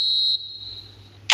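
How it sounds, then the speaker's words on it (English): In the eFootball video game, the referee blows the final whistle: a single shrill, steady tone lasting about a third of a second, trailing off faintly before a short crowd burst at the end. "And there goes the final whistle."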